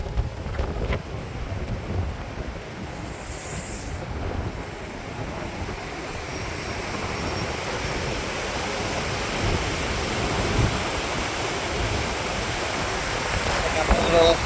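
The River Dee flows past a small Welsh town on a very windy day, giving a constant broad rush of water and wind that holds steady and swells slightly toward the end.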